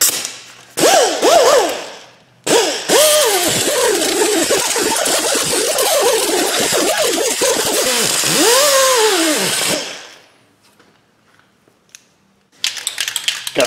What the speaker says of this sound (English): We'll clean up our hub base here. I'll grab us a whizzy wheel tool.